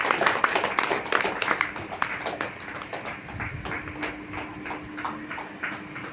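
An audience at a senior citizens' club claps after a poem, a scattered run of hand claps that starts fairly lively and thins out, moderately near.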